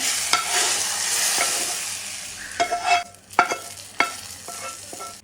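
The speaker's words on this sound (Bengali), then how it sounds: "পেঁয়াজ মরিচটা ভেজে নিয়ে এখন এই ডালেতে ঢেলে দিলাম" Fried onion and chili tipped into a pot of dal, then stirred: a sizzle that fades out, then several sharp clacks and scrapes of a spoon against the pot, close and with no talk.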